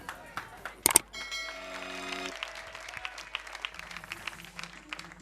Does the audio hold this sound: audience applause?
yes